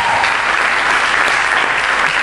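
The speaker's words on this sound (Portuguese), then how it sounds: "Palmas para eles." Applause from a conference audience at a beatbox performance, a dense, even roar of many hands clapping that holds steady and loud throughout.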